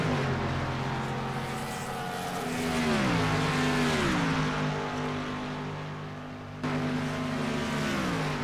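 Several race cars circling the Indianapolis track in an HHRL event, engines droning steadily with harmonic pitch sweeps as they shift and pass, loud and continuous with no talk.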